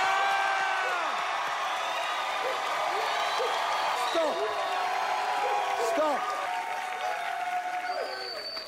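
Studio audience of a game show cheering and clapping for a clapometer vote, a steady broad roar of applause with whoops throughout, while a host shouts over it.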